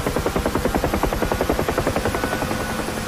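UH-1H Huey helicopter in the DCS flight simulator, its engine under stress as the collective is freed up: a loud, steady, rhythmic rotor chop that beats evenly throughout with a constant engine drone underneath.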